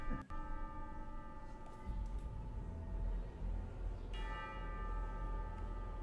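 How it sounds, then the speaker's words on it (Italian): Church bells ring with sustained, resonant metallic tones that hum and overlap, struck again partway through, fairly soft and distant with no talking. "le campane, tra l'altro, vedi chi l'avrebbe detto che a distanza d'anni"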